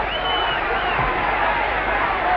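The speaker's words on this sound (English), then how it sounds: "the crowd was going crazy." A boxing arena crowd at the 1963 Muhammad Ali versus Henry Cooper fight cheers in a steady, distant roar, muffled and constant across the short stretch with no pauses.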